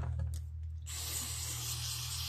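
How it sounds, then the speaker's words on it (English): Carburetor cleaner is sprayed onto a Briggs & Stratton carburetor from a Craftsman leaf vacuum chipper. After a brief quiet moment, a loud continuous aerosol hiss starts and holds steady, close up. "I'm going to do a little more spraying"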